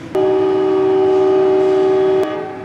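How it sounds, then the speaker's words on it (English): A single long Amtrak train horn blast sounds loud and steady for about two seconds, then cuts off, leaving faint rumble. "When you hear that horn, that means it is time to get back on the train"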